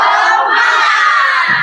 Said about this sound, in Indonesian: Tepuk semangat coba.